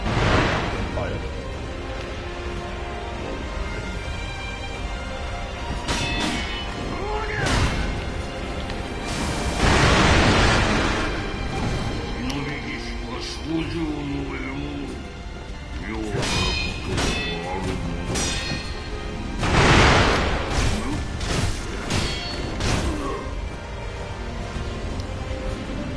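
Heavy thuds, crashes and roaring fire bursts from the Owl's fire attack in the Sekiro second Owl boss battle, with several loud surges among steady combat noise and a voice heard talking.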